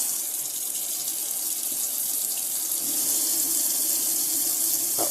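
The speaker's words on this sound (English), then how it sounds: "Now I'll move back into the bathroom tap." A bathroom tap in a Swift Elegance 480 caravan runs steadily, giving a continuous hissing splash of water that stays even and close throughout, with no one speaking.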